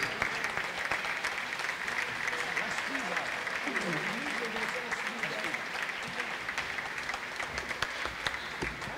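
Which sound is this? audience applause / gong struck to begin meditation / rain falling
audience applause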